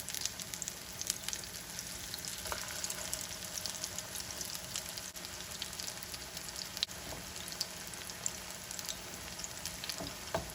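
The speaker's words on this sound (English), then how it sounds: "put the patties when the oil's nice and hot, and you can check by when you see that sizzling noise" Steady crackling sizzle of potato patties (aloo tikki) frying in hot oil, dense and continuous throughout, with a few faint scrapes and clicks.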